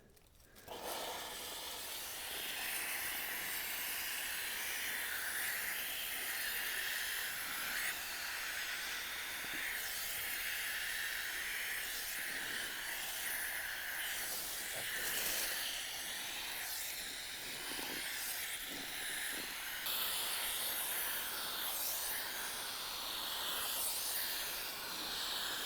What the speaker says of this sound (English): This definitely seems like a much better option for applying the steam.